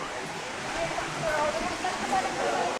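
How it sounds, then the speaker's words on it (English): A waterfall pours with a steady, dense rushing hiss, continuous and fairly close, while a person talks over it. "This is the waterfall everybody's talking about."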